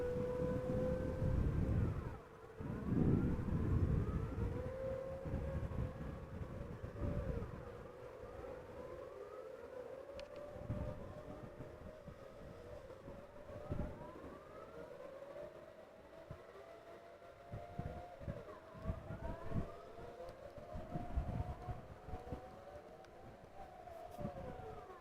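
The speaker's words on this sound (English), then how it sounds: "These are the air alarms being tested out loud on the first Monday of the month" Civil defense air raid sirens near Amsterdam Schiphol Airport, sounded in the monthly first-Monday noon test, wail in long steady tones from several distant locations, slightly out of step, over a low background rumble.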